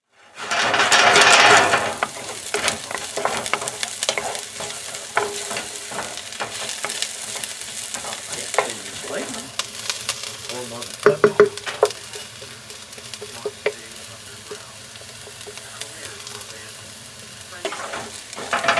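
Leftover pork roast pieces fry and brown in a pan, a loud steady sizzle at first settling into a constant crackle, with scattered utensil scrapes and taps throughout.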